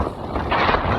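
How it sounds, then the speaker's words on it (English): Outdoor wind buffeting a microphone in a steady low rumble, swelling louder in the second half, with no voices. "it's windy outside"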